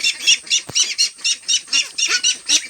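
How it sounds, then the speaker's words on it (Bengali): Pekin duck ducklings peep and squeak in quick, regular bursts, about a dozen shrill calls close by, with one brief thump early on. "আমার হাঁসের বাচ্চাগুলো খুব ভালো আছে"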